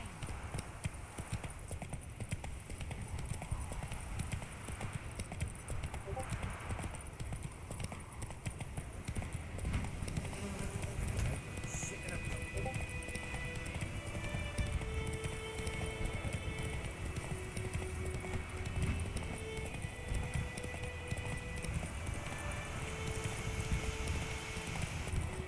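Horse hooves beat a constant, rhythmic clip-clop on the ground in The Witcher 3, carrying on without pause over a windy background with faint sustained tones.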